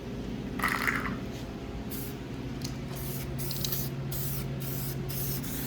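Protective coating sprayed inside a car body from a spray can, a steady hissing spray in short bursts with brief pauses between passes, close and fairly loud over a low background hum.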